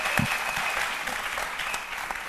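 A studio audience on a French midday television talk show breaks into steady, dense applause that carries on evenly throughout, with no voices over it.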